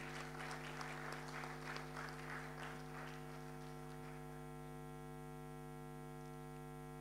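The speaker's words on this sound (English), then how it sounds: "one more huge round of applause" A conference audience gives a round of applause, clapping for a few seconds before fading away, leaving a steady electrical mains hum alone for the rest.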